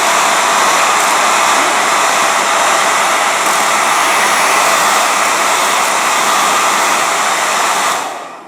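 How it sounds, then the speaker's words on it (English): A blow dryer roars steadily at close range for several seconds, then cuts off abruptly at the end. "I'm going to speed that process up by just hitting it with the blow dryer real quick."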